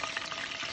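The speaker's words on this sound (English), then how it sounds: "let's heat that up in the frying pan, and next shot you'll see some fried perch" Perch fillet frying in lemon-infused canola oil in a frying pan, a steady close, loud sizzle with crackling hiss throughout.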